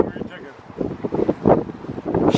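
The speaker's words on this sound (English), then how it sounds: "Windy day." Gusty wind buffets the microphone in low rumbling bursts along the Erie Canal Trail, rising and falling over a few seconds.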